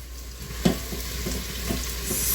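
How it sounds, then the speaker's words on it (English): Sliced garlic and onions sautéing in an Instant Pot for bean soup, a soft, continuous sizzle with a brief clatter of stirring, fairly quiet and close. "I'm going to put it in with my onions and saute it down"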